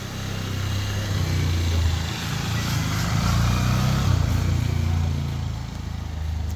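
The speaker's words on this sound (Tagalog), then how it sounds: "padaanin lang natin yung motor" A motorcycle engine drones steadily, swelling louder in the middle as it passes, then fading slightly at the end.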